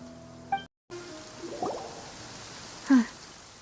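Steady light rain falls outdoors, a soft continuous patter with a few louder drips and splashes standing out, no voices over it.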